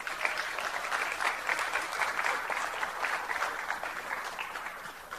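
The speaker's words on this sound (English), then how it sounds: "So a round of applause for our great parents," Applause from an audience at a fifth grade ceremony, honouring the parents: a steady wash of many hands clapping together, fairly close and sustained without a break, with no talk over it.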